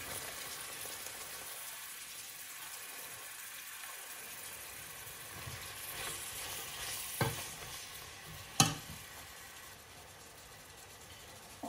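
A steady, soft sizzle of two onions frying in a pan runs throughout, with a couple of brief clinks of a utensil against the pan near the end, fairly close but low in level.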